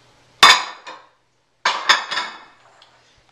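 Kefalograviera, feta and fire-roasted red peppers being stirred in a bowl, heard as sharp clinks and clatters of a utensil against the bowl in two short bursts, close and clear with no talking.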